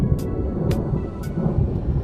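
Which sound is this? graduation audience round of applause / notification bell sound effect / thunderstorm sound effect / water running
thunderstorm sound effect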